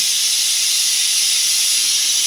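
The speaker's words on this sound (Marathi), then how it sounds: "बघा गाईस कसं एक शिट्टी झाली गाईस." A small pressure cooker whistle releasing steam while cooking masoor dal, a loud continuous hiss held throughout with no talk.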